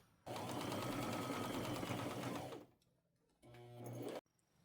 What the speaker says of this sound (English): I'll come down about 1/4 inch, go across with a straight stitch